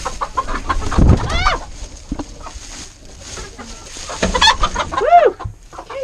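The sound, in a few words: chickens clucking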